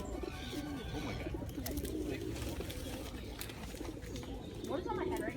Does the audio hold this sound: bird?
yes